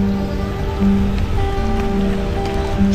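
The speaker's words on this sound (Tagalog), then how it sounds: "Ulan sa Abu Dhabi." Steady rain pours down during a windy storm in Abu Dhabi, a dense continuous patter that holds at an even level throughout with no talking.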